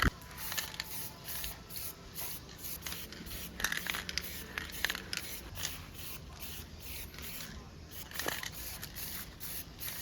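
Pearl white paint is sprayed onto a motorcycle grab bar, heard as a run of short hissing spray bursts close by, mixed with light handling rustles, with no talking.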